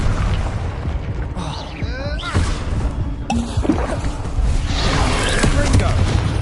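An Incendio fire spell cast during combat in Hogwarts Legacy, a loud sustained whoosh and rumble with bursting pops, layered under game effects and a shouted voice throughout.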